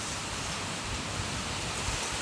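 Steady heavy rain driven by strong wind before dawn in a rural Punjabi farm area, a dense continuous roar of wind and rainfall close by with no break.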